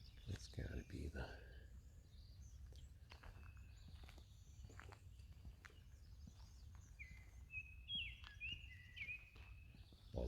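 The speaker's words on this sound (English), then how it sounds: "That was the Baltimore oriole singing back over that way." Faint Baltimore oriole song drifts from a distance during an early morning walk at Landis Arboretum, short whistled phrases among other bird chirps, with footsteps crunching and a voice talking up close.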